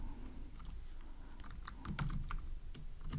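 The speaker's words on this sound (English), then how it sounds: "So I'm gonna type here" Typing on a computer keyboard while writing Android code: quick, irregular key taps at close range, fairly soft, with a slightly denser flurry of keystrokes near the end and no talking.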